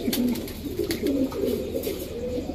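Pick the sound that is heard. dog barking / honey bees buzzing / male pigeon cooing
male pigeon cooing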